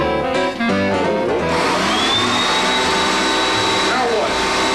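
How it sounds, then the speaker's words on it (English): A floor vacuum cleaner running steadily and loudly throughout, with a rising whine as it spins up, while people talk over it. "The vacuum cleaner right there."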